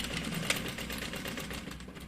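Sewing machine stitching fabric for a bag, a brief, steady, fairly quiet mechanical whir heard up close.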